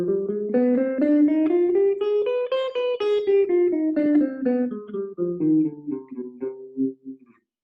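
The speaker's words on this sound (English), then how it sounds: "A different variation or version of a minor scale would be a harmonic minor." A D harmonic minor scale played on a pitched instrument, rising note by note and then descending, each tone clear and sustained with rich harmonics, a steady even run with no voice.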